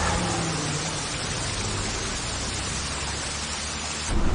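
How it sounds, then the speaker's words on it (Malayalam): Steady, dense rain roars without pause, a broad wash of heavy downpour that swells slightly louder at the very end. "ഒരു പുതിയ റൂട്ടില് ഭയങ്കര മഴ"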